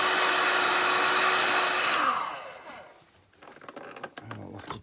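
A heat gun blows hot air onto heat shrink over bare terminals while fitting a caravan C-Line USB socket module, a loud steady whir that winds down after two seconds, followed by quieter handling clicks and knocks.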